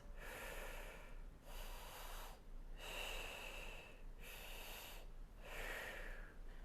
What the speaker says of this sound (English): breathe from the belly because that's where you get the most breath